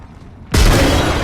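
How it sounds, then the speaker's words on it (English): A grenade blast in the battle-royale shooter Apex Legends: a sudden loud boom after half a second of quiet, then a dense roaring wash of debris and rumble that holds at full level to the end. "Grenade."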